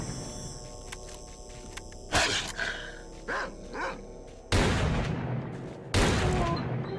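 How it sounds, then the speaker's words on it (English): Dog barking in the video game S.T.A.L.K.E.R. Call of Pripyat, a few loud, sharp bursts spaced apart over a steady game ambience hum, with no talk. "That was one persistent dog."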